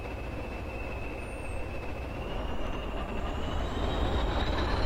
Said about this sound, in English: Just pressing the horn.